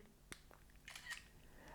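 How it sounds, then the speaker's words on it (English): Phone camera shutter fired via an Adonit PhotoGrip, giving a few faint, quick clicks close by in a quiet room, with no talking. "I'm going to press the shutter button"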